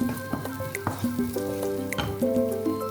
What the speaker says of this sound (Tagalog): Gigisa lang natin ang ating sibuyas at ang ating dahon ng leeks.